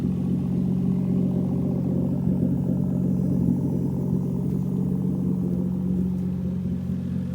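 A car with a Toyota 1JZ VVTI engine on a base tune, lugged at low revs, gives a steady, deep rumbling drone that holds unchanged throughout with no clear revving and no voices.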